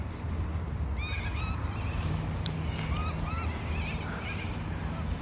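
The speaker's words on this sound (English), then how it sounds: "Birds aren't very happy that I'm here." Birds in a pioneer cemetery give a few honking, goose-like calls in two short bursts around the middle, over steady outdoor background noise.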